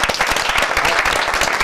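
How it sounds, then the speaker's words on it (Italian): Studio audience on an Italian football talk show clapping in a brief, loud, dense burst of applause with no talk over it. "Facciamo un applauso"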